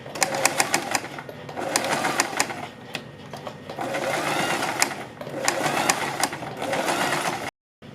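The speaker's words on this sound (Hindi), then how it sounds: "देखिए ऊपर की तरफ सिलाई लगाने के बाद हम अपने नेक की पट्टी पर नीचे की साइड भी सिलाई" A sewing machine stitches the neck strip of a kurti in close, rapid bursts of mechanical whirring and ticking, pausing briefly between runs.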